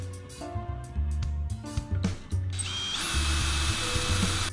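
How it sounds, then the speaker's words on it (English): A power drill fitted with a depth-set bit bores holes into a furniture panel, whirring steadily for a couple of seconds after earlier bumps and handling knocks, close and fairly loud. "set the correct depth in a drilling bit so that you don't drill all the way"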